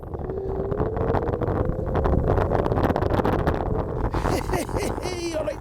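Heavy wind rumbles and buffets the microphone throughout a ride on a Techtron Pro3500 electric scooter, a constant low roar with a faint motor hum underneath and a brief voice near the end.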